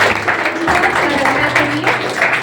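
An audience applauds at a cluster-level retirement farewell ceremony in Podikhurd, with brisk, close clapping running throughout while a voice carries on over it.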